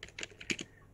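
Quick bursts of keystrokes on a computer keyboard while entering a Linux install command, soft and close, with no voices.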